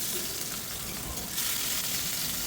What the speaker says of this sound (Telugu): ఇక్కడ నేను ఫిష్ కూడా ఫ్రై రెడీ చేస్తున్నాను. ఫిష్ ఫ్రైకి అయితే నేను వాడుతుంది మస్టర్డ్ ఆయిల్ అండి